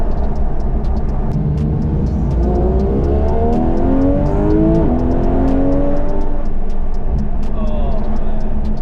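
A Porsche 911 GT3 RS Weissach engine revving hard, its pitch climbing in smooth sweeping rises to a high singing wail, loud and close, with a ticking clatter and people talking over it.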